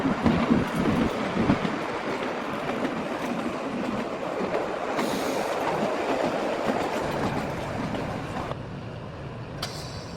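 Him Darshan Express with a Vistadome coach pulling into platform 6 at Kalka station at night, a loud rolling rumble of wheels with clattering and brief squeals, no voices.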